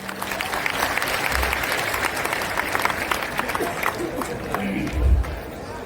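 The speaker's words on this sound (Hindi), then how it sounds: "एक बार जोरदार तालियों से उनका स्वागत करें" Sustained applause from a large crowd at a gathering at the Prayagraj Maha Kumbh, loud and dense, with voices mixed in throughout.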